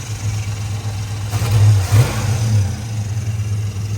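A boxy Chevy car engine running with a low, steady rumble, briefly revved up and settling back to idle, close and loud throughout.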